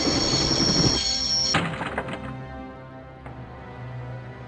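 A train in the Broken Sword video game comes to a stop: a dull mechanical thunk and clatter, then rumbling and squealing that fade away, with no speech.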